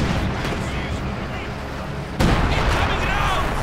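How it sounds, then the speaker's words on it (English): Artillery fire in the video game Company of Heroes 2 rumbles under dense battle noise, with a sudden loud blast near the midpoint followed by sustained booming roar. "Artillery firing support here."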